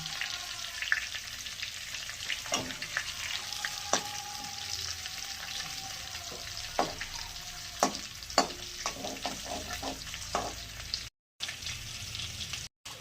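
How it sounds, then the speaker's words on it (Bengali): Dried red chili and a bay leaf sizzling in hot oil for a prawn curry, a constant crackling fry with sharp pops and spatula scrapes scattered through, close, briefly cutting out near the end. "এই তেলে একটা শুকনো লঙ্কা দিলাম, একটা তেজপাতা দিলাম,"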